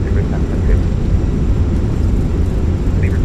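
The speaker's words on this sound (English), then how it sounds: "Reversers are out. Decelerating." An Airbus A319 in a flight simulator game rumbles with a loud, steady low roar as its thrust reversers deploy on landing, a dense engine wash with no breaks.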